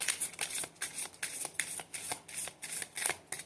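Tarot cards shuffled by hand in a quick, regular riffle of about a dozen crisp flutters, close and fairly quiet, with no talking.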